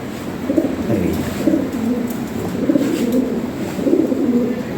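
Fancy Lahori Sirazi pigeons coo in repeated soft rolling phrases, close and clear over a faint background, with no talk.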